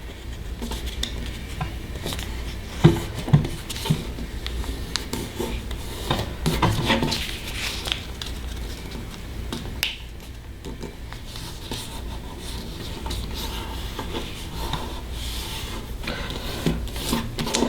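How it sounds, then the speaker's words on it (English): Origami paper being creased with a thumbnail while folding a crane, heard as close, dry rubbing and scraping strokes with a few sharper crackles scattered through a continuous rustle. "use your thumbnail to make a nice crisp fold"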